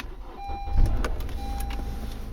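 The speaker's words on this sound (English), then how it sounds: "So if I start the car" A 2013 Honda Accord's engine cranks and starts with a low rumble and brief surge, then settles into a steady idle heard from inside the car, with faint electronic chimes.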